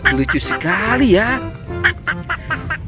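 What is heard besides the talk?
duck quacking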